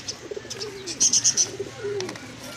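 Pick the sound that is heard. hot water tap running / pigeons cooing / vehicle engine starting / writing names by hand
pigeons cooing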